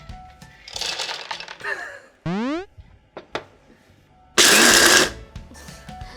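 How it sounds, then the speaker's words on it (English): Food processor blitzing roasted pistachios into small bits, loud rattling grinding in several short bursts separated by pauses, up close. "we can use the food processor to blitz it into little bits"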